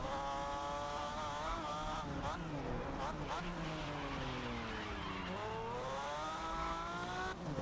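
A race car in the video game GRID Legends revs hard and shifts through the gears, the engine pitch climbing and falling repeatedly, with tyre squeal and skidding mixed into a loud, continuous drive.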